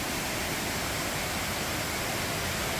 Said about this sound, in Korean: 계곡 물소리가 여기까지 들려요